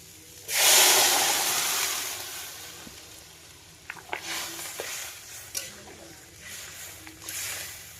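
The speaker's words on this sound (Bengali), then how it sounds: "কষানো কিন্তু আমার হয়ে গেছে আগে থেকে করে রাখা গরম জল দিয়ে দিলাম" Hot water poured into a pan of sautéed curry bursts into a loud, sudden hiss that slowly dies down into a gentle simmer, with a few light clinks and bubbling pops following.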